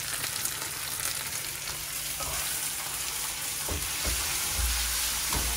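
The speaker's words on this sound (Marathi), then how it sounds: "आणि थोडंसं असं चांगलं सॉफ्ट होईपर्यंत आता परतून घ्यायचं." Onion, ginger, garlic and tomato fry in hot oil in a home kitchen. The sizzle is close and continuous, with soft stirring clatters and a louder scrape near the end.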